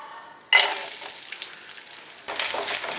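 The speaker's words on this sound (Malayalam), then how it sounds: "തേങ്ങ നെയ്യിലിട്ടിട്ട് ഒന്ന് നന്നായിട്ടൊന്ന് മൂപ്പിച്ചെടുക്കണം." Chopped coconut dropped into hot ghee starts frying with a sudden loud sizzle that keeps crackling steadily, then surges again as it is stirred, close up with no voices.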